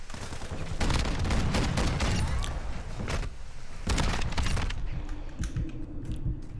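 Rapid bursts of KV Broadside shotgun hip fire in a first-person shooter game crack out in quick clusters, loud and close, with short pauses and mechanical clicks between volleys.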